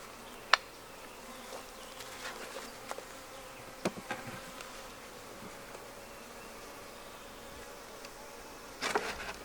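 Faint, steady buzzing of bees in a hive with laying workers, with a few soft clicks and knocks scattered through it and no voices.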